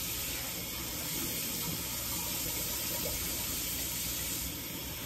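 Tap water runs steadily into a pot in a kitchen sink as it is rinsed out, a continuous close, broadband splashing hiss with no pauses and no talking.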